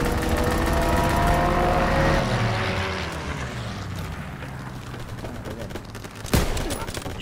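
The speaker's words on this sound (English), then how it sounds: "So, enemy strafing run incoming." Sustained rapid gunfire from an enemy strafing run in Call of Duty WWII roars loudly with aircraft-like rumble, fading after a few seconds into a lower battlefield din and then cut by one sharp blast, with faint voices mixed in.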